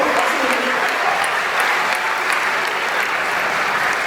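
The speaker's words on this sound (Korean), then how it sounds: "박수 먼저" A church congregation bursts into steady, loud applause that fills the room evenly from start to finish, a dense wash of many hands clapping at once.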